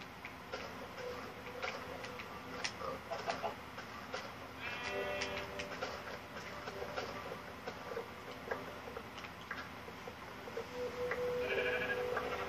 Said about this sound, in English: Yep, that was the last sheep, I'm pretty sure.